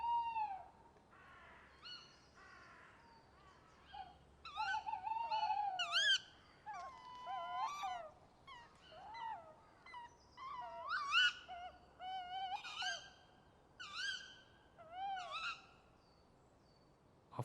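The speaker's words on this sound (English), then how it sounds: "The envelope can filter out all the other noises besides the call from tiny owls" Tiny owls call in an ancient woodland, giving a string of short, high, whistled hoots and trills that come in irregular bursts over a faint, steady background hum, with no voices present.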